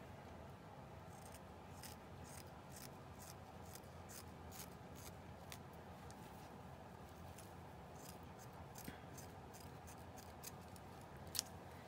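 Scissors snip paper again and again at close range for a crafting junk journal page tag, a steady run of short crisp cuts with a quiet rustle of paper and no talking.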